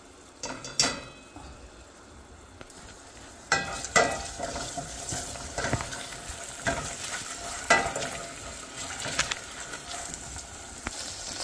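Onion with ginger garlic paste and green chilli paste fries in a pan, a continuous sizzle punctuated by repeated spatula stirs and scrapes against the metal, close and moderately loud.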